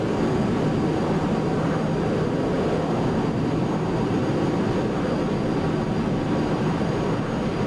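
A jet airliner's engines in Flight Simulator X during the takeoff roll produce a steady, loud, broadband roar that holds even throughout, with no talk over it.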